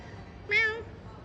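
A single short cat meow, clear and fairly close, rising then fading over a quiet background.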